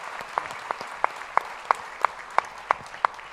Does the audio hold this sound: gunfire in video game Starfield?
no